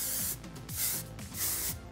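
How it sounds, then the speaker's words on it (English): She's a Tease Volumizing hairspray hisses onto a braid in four short, close spray bursts in quick succession, with no voices. "So I'm going to go in with She's a Tease Volumizing Hairspray"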